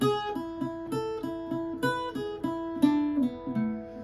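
An Irish bouzouki plays the first line of the B part of the jig Old Hag You Have Killed Me, with a string of clear plucked notes in a steady lilting rhythm, close and alone.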